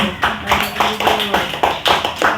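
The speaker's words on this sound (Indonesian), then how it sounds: "Kasih tepuk tangan dulu." A classroom of students clapping hands together in a lesson, loud sharp claps in a rhythmic pattern of grouped beats, close and distinct, with a little voice underneath.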